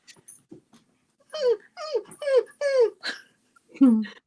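A small female house dog whimpers for attention in a run of high, wavering whines, about five close cries in a row with softer snuffles before them, and no talk over it.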